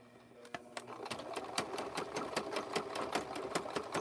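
Sewing machine stitching a rope handbag, needle clattering in a quick, steady rhythm that speeds up after a slower start, close and fairly quiet in a room.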